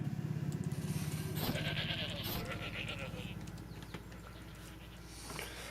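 Sheep bleat in a video game, a short burst of repeated calls over a steady background hum, with a faint clopping sound near the end.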